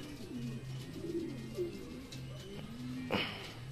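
Racing pigeons cooing at a loft as a young bird lands after a 105 km training toss in Lupao, Nueva Ecija: soft, low repeated coos overlapping steadily, near and moderate, with a brief flutter of wings late on.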